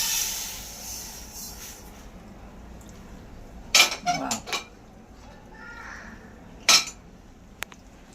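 Roasted sesame seeds are scraped and scooped out of a pan with a utensil, giving a few clinks and scrapes between quiet stretches after a soft hiss.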